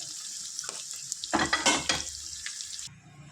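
Pre-cooked country chicken added to a hot pan, a short burst of crackling and sizzle as it goes in, then a quieter fry before it drops away.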